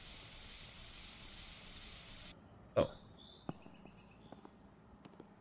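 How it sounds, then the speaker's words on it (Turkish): Spray can spraying in Internet Cafe Simulator 2: a steady loud hiss of an aerosol can held for about two seconds, then cutting off, followed by quieter scattered clicks and small noises. "Spreyimizi alalım. Birazcık sıkalım buralara."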